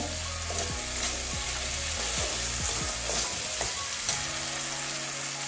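Drumsticks and snails are sautéed in a pan, a dense, steady sizzle with a spatula scraping and turning the pieces in short repeated strokes.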